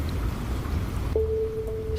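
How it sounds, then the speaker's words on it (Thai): Rain drums on a roof, a dense steady patter that fills the space as a quiet wash, and a thin sustained tone rises partway through. "เสียงฝนกระทบหลังคากึกก้องไปทั่ว"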